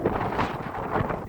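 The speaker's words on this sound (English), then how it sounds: "it's really windy." Strong wind buffets the microphone in gusty, uneven rushes of noise, loud and close, with no talk.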